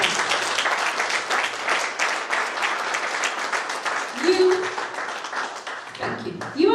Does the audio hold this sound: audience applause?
yes